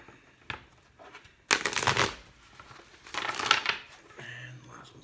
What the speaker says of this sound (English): Get 2 more shuffles.